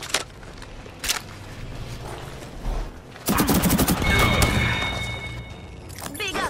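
Gunfire in a shooter video game: a few isolated shots, then a loud rapid burst of automatic fire with ringing and electronic tones, heard among game sounds and in-game voice lines.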